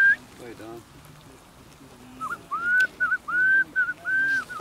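A shepherd whistles to call a large flock of sheep and sheepdogs: a run of loud, sliding whistle notes in short repeated bursts, with low talk heard before and beneath them.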